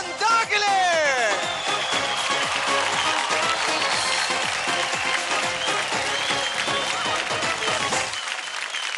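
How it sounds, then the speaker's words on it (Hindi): Studio audience on a TV dance competition show bursts into loud, sustained applause, dense clapping filling the space for about eight seconds before cutting off. "और जोरदार ताली हो जाए हमारे ग्रैंड मास्टर मिथुन दा के लिए।"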